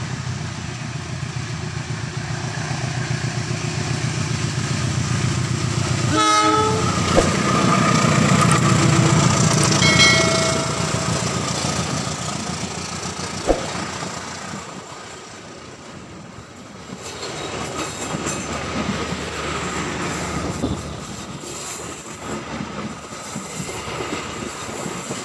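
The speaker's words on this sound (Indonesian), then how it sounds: "Menggunakan lokomotif CC201" A train hauled by a CC201 diesel locomotive rolls past on a curve near Cirahong, with loud rumbling, clattering wheels and squeals that rise, pass and fade into a quieter rolling rumble over about twenty-five seconds.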